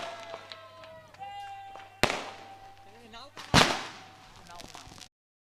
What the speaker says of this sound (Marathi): फटाक्यांची आतिषबाजी आपण पाहताय